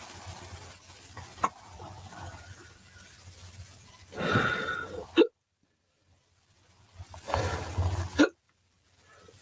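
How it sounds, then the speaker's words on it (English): A woman hiccups twice, a few seconds apart, each a sharp catch at the end of a breathy swell over faint background noise. "I'm sorry, I got to hiccup."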